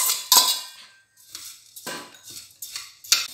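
Washed moong dal being dry-roasted in a pan, with bursts of rattling, scraping stirring and metallic clinks separated by short pauses, close and fairly loud.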